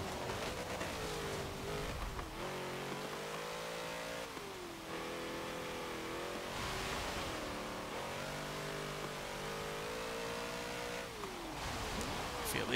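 A twin-turbo V8 1963 Volkswagen Beetle in Forza Motorsport 7 accelerating hard, a loud continuous engine roar rising and falling in pitch through repeated gear changes, steady and close throughout.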